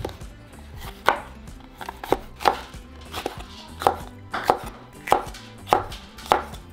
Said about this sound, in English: So now we're just going to cut them into small pieces like that.